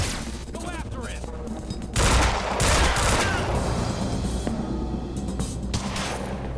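Rapid gunfire from a hard-recoiling weapon in the shooter game Quantum Break, a dense burst of shots with louder blasts from about two seconds on, over a busy game soundscape.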